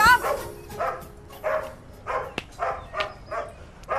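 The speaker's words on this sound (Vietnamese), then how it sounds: "Làm cái gì đứng trước nhà có gì để chó sủa ôm sòm vậy?" A dog barks in repeated short bursts, about eight evenly spaced barks in a row, moderately close and loud, with no talking over them.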